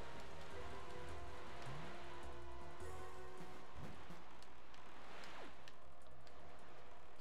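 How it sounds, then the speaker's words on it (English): Steady rain pours over an island in The Legend of Zelda: The Wind Waker, a dense, even hiss of drops with a few brief game effects mixed in, and no voices. "Why is it so rainy?"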